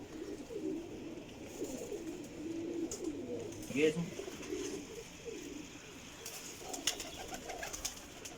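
A Kasuri jaaldar pigeon, a female, coos softly amid a busy loft with other birds chirping faintly, a steady low murmur of background noise and occasional clicks.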